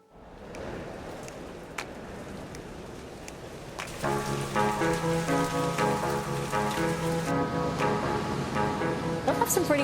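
Heavy rain on Cape Breton Island pours as a steady, dense hiss of drops throughout, with tonal, music-like notes joining over the rain partway through.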